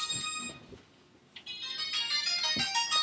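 Flip phone ringtone playing a bright electronic melody, fairly close and steady, pausing briefly before resuming for a few more seconds.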